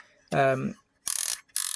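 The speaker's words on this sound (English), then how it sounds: "That winds on. That knocks the shutter across when it's ready." Film advance and shutter cocking on a cheap 35mm waterproof camera: a short plastic ratcheting whir followed by two quick buzzy clicking bursts, very close and alone.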